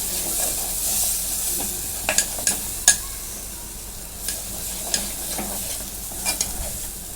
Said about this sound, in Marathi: आता हा काळा मसाला तो टाकून घेते आपण आता परतून घेतो